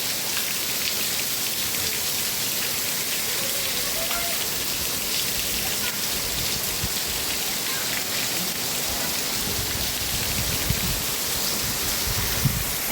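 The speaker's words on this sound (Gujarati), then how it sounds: "વરસાદ તો જો વધતો જાય છે. કેવો વરસાદ વધે છે." Heavy monsoon rain pours steadily onto surfaces around a house, a dense, constant hiss with close drumming drops, loud and unbroken throughout with no talk.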